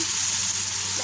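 Broth poured over fried vegetables in a pot, a steady rushing pour of liquid with a faint sizzle beneath, close and continuous for about a second without speech.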